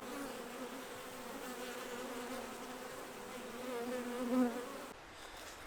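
Honeybees buzz steadily around beehives at a French apiary, a dense, continuous insect drone that swells slightly before cutting off near the end; no voices.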